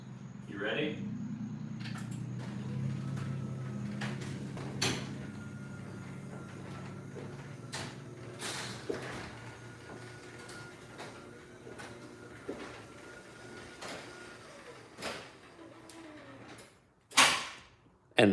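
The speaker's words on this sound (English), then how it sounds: "I'm gonna shut this garage door and you guys get to experience how loud it is." A garage door shuts under a side-mount garage door opener, giving a low, quiet motor hum that runs for several seconds, then a series of light clicks and thumps and a final knock as it closes.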